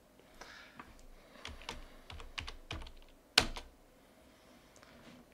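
Someone types a command on a computer keyboard on a Linux machine. Quiet, close keystrokes come in an uneven burst, ending with one sharper, louder key press.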